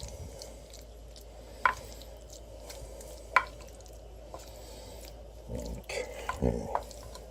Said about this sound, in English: Mix it till it's all combined pretty good.